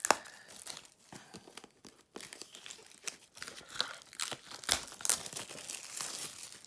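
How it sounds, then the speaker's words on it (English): Plastic wrap is peeled and torn off a Universal Soldier (1992) Blu-ray steelbook case, producing close crinkling and crackling in irregular bursts with brief pauses. "Let's get the plastic off first before anything else"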